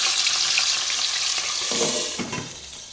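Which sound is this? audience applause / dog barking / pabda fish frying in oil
pabda fish frying in oil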